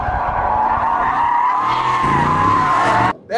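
A new Aston Martin Vantage spins its wheels, tyres squealing in a loud, sustained high-pitched screech with engine roar beneath, close by, cutting off abruptly at the end.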